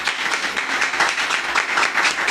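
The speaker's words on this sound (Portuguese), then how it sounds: "Eu tenho que aplaudir." Steady applause from many hands clapping, dense and continuous across the moment, fairly loud with no voices over it.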